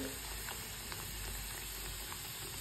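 Dal puri, a lentil-stuffed flatbread, frying in shallow hot oil, giving a steady, faint sizzle with soft popping crackles throughout and no voices.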